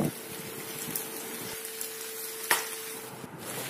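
Chicken, onion and capsicum stir-frying in a pan, a soft steady sizzle with a few light clinks of a utensil, no talking.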